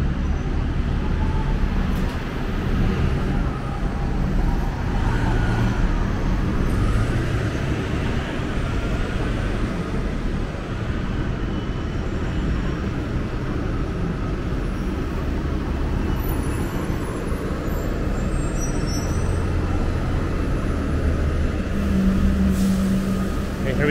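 TTC 995 express bus at Scarborough Centre station, its engine rumbling low amid steady station and traffic noise, with occasional brief higher tones, continuous and moderately near.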